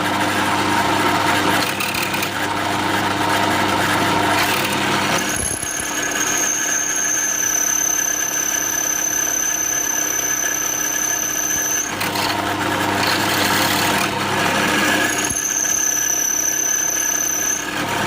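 A carbide drill bit grinds dry into a hardened steel file with a continuous high-pitched squeal and rough scraping, steady and loud for the whole stretch, with a short pause partway through.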